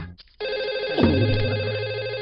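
A telephone rings after a short quiet moment, a loud electronic ringtone with a steady tone that continues to the end, over a faint dramatic background.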